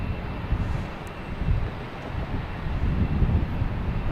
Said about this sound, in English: I think we have another Cape Air lined up to take off